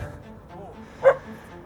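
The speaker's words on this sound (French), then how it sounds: "Il y a toujours un chien qui veut te bouffer en fait." A dog barks once, a short, fairly faint yelp partway through, over quiet low background noise.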